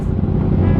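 A 1000cc big bike motorcycle engine gives a brief, loud, close rumble, low and throaty, with nothing else audible.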